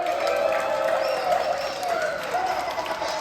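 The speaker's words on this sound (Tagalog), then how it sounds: "sigawan at hiyawan naman para kay Sir Bill!" An audience at a baby dedication celebration shouts and cheers for Sir Bill, a loud, continuous wall of cheering and clapping that holds steady throughout with little speech.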